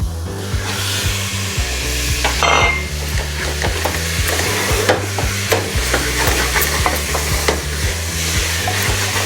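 Mutton keema frying with cooked onions and turmeric in a pan, stirred with a steady scraping rhythm over a continuous close sizzle.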